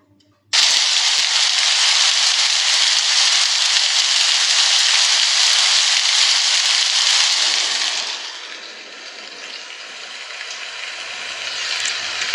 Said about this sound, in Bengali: ভোরবেলা বৃষ্টির আওয়াজে ঘুম ভাঙল।